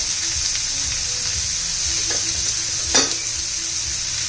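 Tomatoes and homemade masala fry in a pan with a steady, loud, close sizzle, broken by a couple of brief stirring scrapes near the end.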